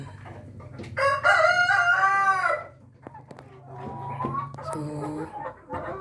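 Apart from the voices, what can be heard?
Rhode Island rooster crowing and clucking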